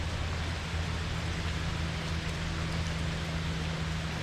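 Outdoor rain falls in a continuous, even wash of soft hiss on a mild 60-degree day, with a low steady hum underneath and no voices.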